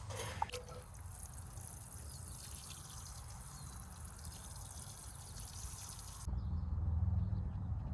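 Water pours steadily onto newly planted giant pumpkin plants in an outdoor patch, a soft continuous trickle and splash that grows heavier and louder near the end.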